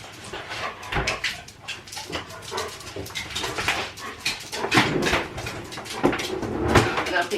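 Several dogs wait indoors for their breakfast, with close, restless shuffling, clicking and rustling throughout and soft whimpers mixed in, while a voice speaks faintly in the background.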